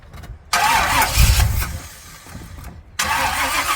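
A Pontiac 350 V8 fitted with a Willis carburetor cranks and fires, a loud burst of starter whir and catching engine that settles briefly before cranking again, close to the microphone with no talking.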